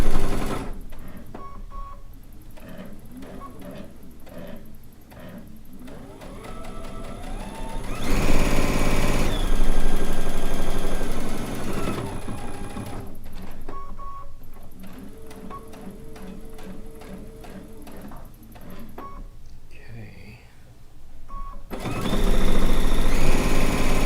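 A sewing machine stitches a rag quilt seam with a 1-inch seam allowance, running in bursts of rapid mechanical whirring and ticking, loud and close, with brief pauses between runs.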